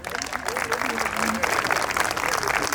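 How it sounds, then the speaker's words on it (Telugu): Audience applause for students at a dance academy's annual day, a steady dense wash of clapping filling the whole stretch, loud and close, with faint voices mixed beneath. "A big round of applause to all the students."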